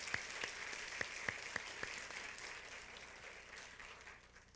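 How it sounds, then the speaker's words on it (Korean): A church congregation applauds during a year-end service, a faint, steady wash of clapping with a few sharper claps near the start and no voices over it. "모든 소식으로 하나님께 영광의 박수 올려드리겠습니다."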